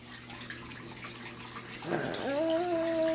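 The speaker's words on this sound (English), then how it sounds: "look at all that dirty water down the drain" A Black+Decker 2.0 cu. ft. small portable washer drains dirty water, a steady close rush of flowing water that swells midway, joined by a rising mechanical whine from the machine.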